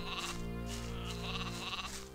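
Sheep in the video game Gothic 2 bleat repeatedly in a steady rhythm of about four wavering calls, close and clear over a soft game background.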